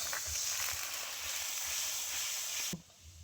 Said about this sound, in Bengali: দিয়ে দিচ্ছি জিরে গুঁড়ো অল্প, আরো একটু জল দিয়ে দিচ্ছি।